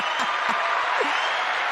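An applause sound effect plays as a dense, even wash of clapping for under two seconds, with a few short vocal sounds over it.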